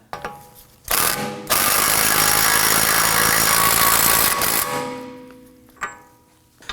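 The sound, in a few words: 30mm socket tightening axle nut on Toyota Camry hub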